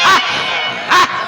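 Dogs bark twice, loud and close, with short sharp barks spaced almost a second apart over a noisy background.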